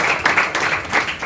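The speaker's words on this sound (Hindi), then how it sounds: "आप जोरदार इस बात के लिए ताली से स्वागत करेंगे।" Audience clapping at a Teachers' Day gathering, a brief patter of applause with uneven claps rising and falling, moderately loud and close.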